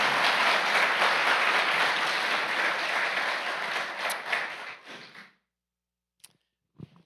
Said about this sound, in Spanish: démosle un aplauso de verdad